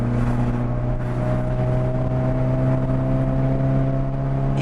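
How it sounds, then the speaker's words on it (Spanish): A BMW 318i E30 engine runs steadily with a loud, continuous drone and strong low harmonics, holding a fairly constant pitch close by without clear rises, no talking over it. "mientras más sube de revoluciones nos entrega un sonido de motor bien interesante"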